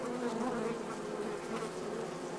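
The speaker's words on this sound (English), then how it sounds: "I hate the sound of flies." Flies buzzing in an Oculus Rift VR game, a continuous close drone with no voices over it.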